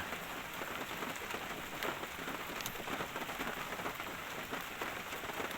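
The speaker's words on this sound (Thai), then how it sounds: "แต่ว่าตอนนี้ฝนตกครับ ฝนตกเลยเนี่ย" Steady rain falls hard and continuously on surfaces around a bogged-down Kobelco SK200 excavator, a dense close hiss with no voices.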